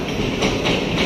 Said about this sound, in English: Here comes my local train.